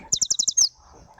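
Recorded bird song from a downloaded sample set: a quick series of five bright, evenly spaced chirps followed by a sharper down-sweeping note, close and clear, then near silence.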